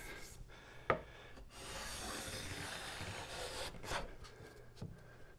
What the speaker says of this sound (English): Getting any kind of complete shavings, but we're getting shavings.